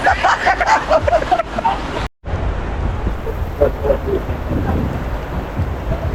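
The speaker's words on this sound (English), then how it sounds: "Rain!" Heavy rain pours during a storm at the Denbigh agricultural show in Jamaica, a dense steady hiss of rainfall with crowd noise and voices mixed in throughout.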